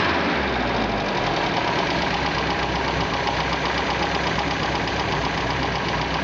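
An MG car engine idles steadily while its HIF carburetors are tuned, a continuous close mechanical hum with a faint knocking pulse and no talk over it.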